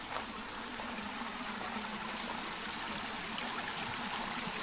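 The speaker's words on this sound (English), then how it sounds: "So there is a creek." A creek flows near old house ruins along the Columbia & Western Trail in British Columbia. The water makes a steady, faint, broadband rushing and trickling sound that runs unbroken the whole time, with no voices.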